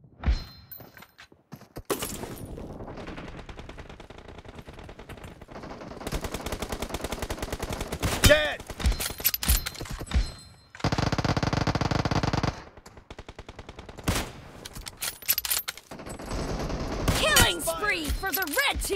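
Bursts of automatic gunfire and single shots from a BGMI mobile battle game in an 8v8 arena training match, loud and dense in long rattling volleys with short gaps, with players calling out over the shooting.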